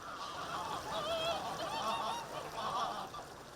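Domestic geese in a village give repeated nasal honks, several birds overlapping at a moderate distance over a low outdoor background.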